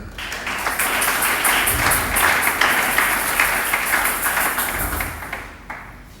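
A church congregation at a large closing worship gathering claps together in steady, rapid rhythmic applause that swells and then fades near the end, loud and close with no talking.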